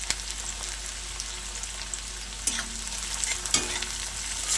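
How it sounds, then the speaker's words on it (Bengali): Chopped onion and green chili fry in hot oil in a pan, giving a close, steady sizzle with a couple of stirring scrapes and a low background hum, with no talk. "এবারে দিয়ে দেবো পেঁয়াজ কুচি, আর দিয়ে দেবো লঙ্কা কুচি"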